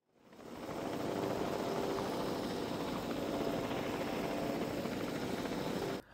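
A helicopter's rotor drone in the video game Jurassic World Evolution 2 fades in quickly, holds a steady, loud whir with a faint tonal hum, then cuts off abruptly at the end.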